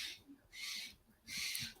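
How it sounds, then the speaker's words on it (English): A blue jay in a residential neighborhood gives two harsh, raspy calls, each about half a second long, faint and somewhat distant, with no speech. "It's my neighborhood blue jay."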